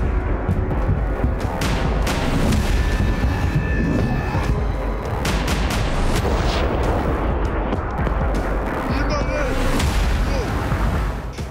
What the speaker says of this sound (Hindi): जैसे ही हिजबुल्लाह के हमले शुरू हुए, इजरायली आयरन डोम डिफेंस सिस्टम ने उन्हें हवा में ही नष्ट करना शुरू कर दिया।